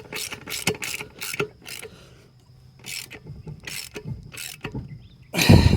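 Bolts being tightened on an abandoned 1968 Ford XL Fastback, heard as bursts of ratcheting wrench clicks in quick runs with short pauses, close and fairly loud, and a heavier clatter at the end.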